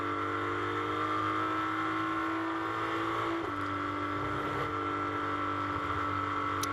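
A BMW GT race car engine drones loudly and steadily as it climbs the hill through Eau Rouge at Spa during a 24-hour GT race, a sustained high-revving tone with a brief pitch shift midway.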